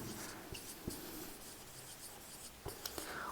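Chalk or marker writing on a board during a lesson, with short scratchy strokes and taps that come in irregular bursts over a quiet room.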